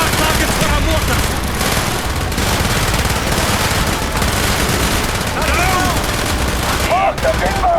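Mortar fire and dense gunfire in the Call of Duty: Black Ops video game, a loud continuous barrage of shots and booms with shouted voices mixed in.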